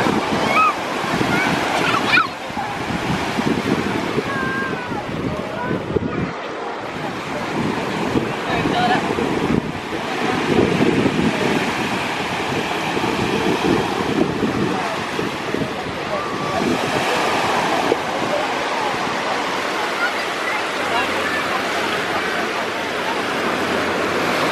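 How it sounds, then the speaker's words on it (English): Waves wash up onto a beach in surging, uneven rushes amid gusty wind noise on the microphone, with occasional voices nearby. "Oh, here comes the water."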